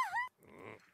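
A dog in The Sims 3 video game gives a short, high whimper that rises and falls, followed after a brief pause by a softer, low grumbling noise, close and clear.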